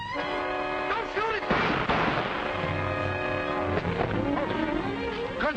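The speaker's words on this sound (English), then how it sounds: "Gunshots!" Gunshots in a film scene, loud blasts with a burst of crackling noise in the middle, set among street shouting and dramatic background music.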